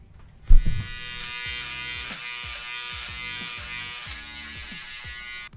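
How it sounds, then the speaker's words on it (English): A cordless Philips shaver buzzes steadily while trimming hair, close and continuous with rhythmic pulsing strokes after a brief handling thump at the start. "this little cordless Phillips shaver, this works really good."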